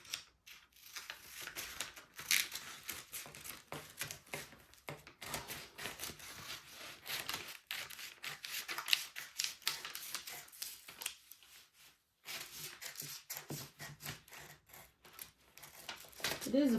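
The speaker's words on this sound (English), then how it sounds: "So we are going to cut it out now." Scissors snip steadily through corset fabric along a cut pattern, a run of close, crisp cuts with brief pauses, moderately loud and near.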